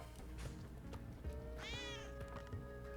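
A cat in the video game Spelunky lets out a short rising meow in the middle, over constant game music and effects, with scattered thumps around it.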